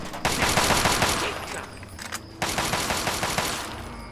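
Automatic gunfire in Fallout 3, rapid bursts of shots in a dense rattling stream, then a brief pause before another sustained burst, loud and close.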